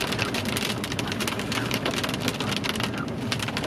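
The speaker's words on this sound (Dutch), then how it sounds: "Het gaat gewoon heel dag zo regenen." Steady rain falls throughout on a day of all-day rain, making a dense, continuous hiss and patter of drops striking surfaces, fairly close and even in loudness with no voices.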